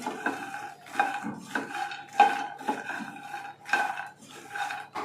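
Makhana (fox nuts) stirred in a pan with a utensil, giving repeated scraping, rattling strokes in an irregular rhythm, close and moderately loud with no talking.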